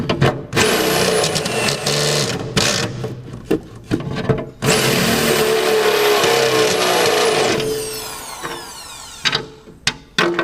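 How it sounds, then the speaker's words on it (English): A power drill whines at high speed as the bit bites into material, straining and stopping in bursts, with a long steady run in the middle. "I don't think this drill bit likes this grippy stuff very much."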